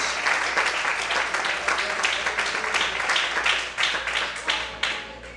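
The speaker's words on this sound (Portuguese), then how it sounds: "Você pode aplaudir o Senhor?" Steady applause from a church congregation, dense overlapping claps sustained for several seconds at close range, with a faint voice underneath.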